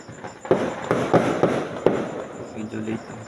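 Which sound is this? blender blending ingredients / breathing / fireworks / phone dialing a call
fireworks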